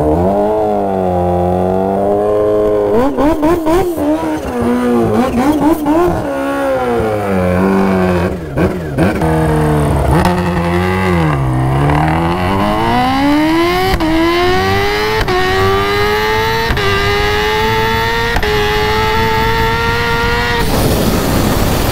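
Kawasaki Ninja H2 making a drag-strip run at a crowded event: the engine revs and blips near the start line, then launches and climbs through the gears with rising whine, loud and close, ending abruptly.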